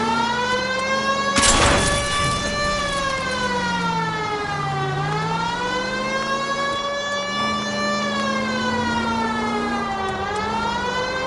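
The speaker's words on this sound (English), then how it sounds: "You know, we might get there quicker if you use the siren." Police car siren in the video game L.A. Noire, a loud continuous wailing tone that rises and falls steadily throughout, with a brief burst of broadband noise early on.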